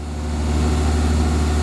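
Honda Prelude engine held steady at a raised idle past 2,000 RPM, a loud, constant, close droning hum with an even low throb.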